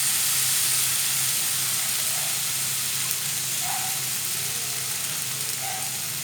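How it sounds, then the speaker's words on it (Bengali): Gobindobhog rice frying in a pan with spices and three green chillies, a steady close sizzle and hiss that runs unbroken and fairly loud, with faint scrapes now and then. "চালটাও একটু মশলার মধ্যে এরকম ভাজা ভাজা হবে।"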